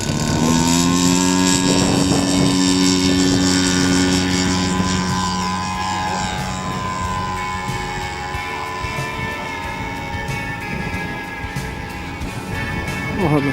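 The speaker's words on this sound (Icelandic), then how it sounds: "Og þarna sjá hann að fljúga svolítilega." Small aircraft FMFA flying at Melgerðismelar airfield in Iceland, its loud propeller engine droning continuously with a shifting pitch as it passes, strong and near throughout.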